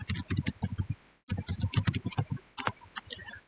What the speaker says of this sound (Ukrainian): Я для запуску зручно натискаю клавішу F5 і Enter, щоб погодитись.